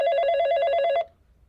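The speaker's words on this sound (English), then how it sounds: "I always find ringing phone so fucking annoying." A telephone bell rings in the video game Dead Loop, one continuous rapid trilling ring lasting about a second before stopping abruptly, loud and close with no talk.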